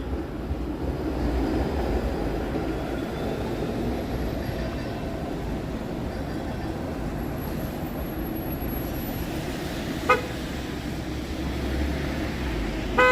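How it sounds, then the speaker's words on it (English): Low, steady rumble of a moving Toronto subway train with rattling and rushing noise throughout, a brief clank near the end. "And onto the subway I go."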